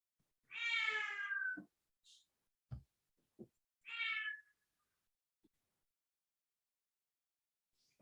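A young cat of about five months meows twice, two clear separate cries a few seconds apart, quiet and close, with small scattered knocks and clicks in between and no talking.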